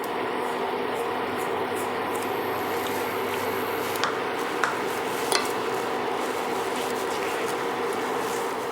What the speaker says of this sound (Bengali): এবার এখানে দিয়ে দেব সুজি